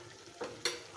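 Eggplant being stir-fried in a pan for a smoked bata fish curry, two quick spatula scrapes over a soft sizzle, close and brief.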